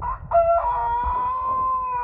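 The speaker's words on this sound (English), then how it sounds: "Look at that rooster there, y'all." A rooster on a farm animal sanctuary gives one loud, close crow that stretches into a long drawn-out call, with no talk.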